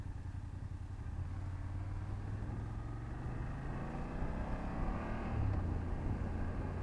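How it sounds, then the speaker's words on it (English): A BMW F800GS motorcycle engine drones steadily as it slows under engine braking, a low, even hum with a shift in pitch near the end and no speech. "and then you calibrate the engine braking."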